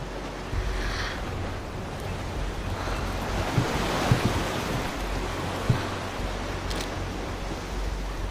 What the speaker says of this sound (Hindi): टाइड बहुत तेजी से बढ़ रही है।